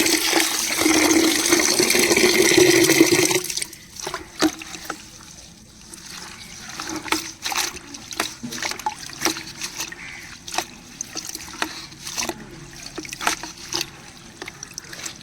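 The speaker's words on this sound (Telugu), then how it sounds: "ఈ విధంగా అయితే ఒక 2-3 టైమ్స్ పుదీనాని వాష్ చేసుకోవాలన్నమాట" Fresh mint leaves rinsed in a bowl of water by hand: a few seconds of steady splashing and pouring, then quieter scattered drips, sloshes and small clinks as the washing continues, close up with no talk.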